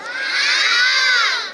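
A festival crowd at a street Ganesh celebration shouting together in one loud, sustained roar of many high voices, swelling and then fading.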